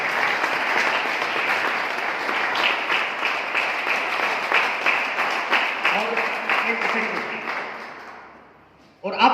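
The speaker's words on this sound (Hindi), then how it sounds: "तालियां बहुत हो चुकी हैं" A seminar audience in Bhiwani claps in sustained applause, a dense steady wash that gradually fades away before a short burst of sound at the very end.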